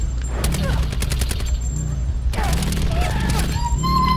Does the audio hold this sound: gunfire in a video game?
yes